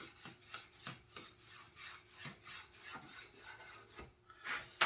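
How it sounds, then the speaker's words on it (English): A pencil scratches repeated marking strokes across a wooden surface ahead of sanding, a faint, close rhythmic rasp with no talk. "I'll just take a pencil and, you know, do the regular old marking that we do when we sand these sorts of things"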